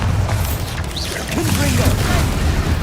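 Bombarda spell blast in the video game Hogwarts Legacy, a heavy booming burst with a rumbling tail, loud and dense amid other combat noise and a voice.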